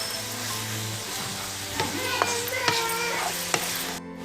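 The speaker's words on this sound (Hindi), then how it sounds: "इसमें करेले का जो छीलन है उसको डाल देंगे और अच्छे से मिक्स कर देंगे और 1 से 2 मिनट के लिए और भूनेंगे" Bitter gourd peel tossed into frying onions in a pan for a village-style stuffed karela dinner, with a steady close sizzle broken by several sharp spatula scrapes and clinks as everything is mixed.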